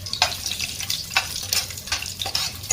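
Whole garam masala spices sizzle in a small amount of hot oil for a mutton pulao, crackling steadily with a few sharper pops and stirring scrapes close by.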